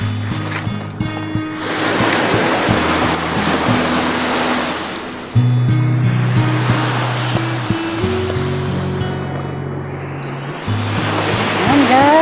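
Sea waves washing onto a shore with clear water: a loud continuous surf roar, swelling and easing as breakers roll in, with wind rushing across the microphone and brief bursts of nearby voices.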